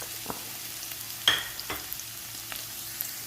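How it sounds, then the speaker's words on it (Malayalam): Small onions sizzle in hot coconut oil in a pan, a low steady fry with a few sharp crackles and pops, close and fairly quiet, with no voices. "വെളിച്ചെണ്ണ ചൂടായിട്ടുണ്ട് ഇനി ചെറിയ ഉള്ളി ഇട്ട് കൊടുക്കുക"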